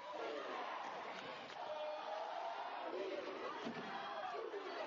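Dense, loud crowd yelling and cheering fills a college cheerleading national championship arena, a sustained roar of many voices with shouted chants rising and falling throughout.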